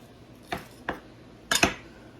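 Knife dicing washed tomatoes on a board, heard as three short, sharp knocks, the last a quick double strike, against a quiet background.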